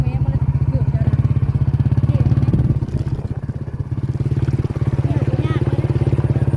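A motorcycle engine putters steadily close by, its throttle rising and falling as the bike is ridden off, with people talking over it.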